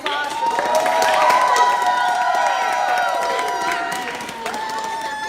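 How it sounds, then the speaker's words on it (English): An audience gives a round of applause, with clapping, cheering and raised voices swelling early and then tapering off over several seconds. "Let's give a round of applause."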